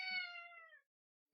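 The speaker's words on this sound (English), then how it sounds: "That was my cat." A pet cat lets out a single drawn-out meow, close and fairly quiet, fading away after under a second and followed by silence.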